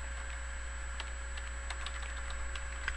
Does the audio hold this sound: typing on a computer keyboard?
yes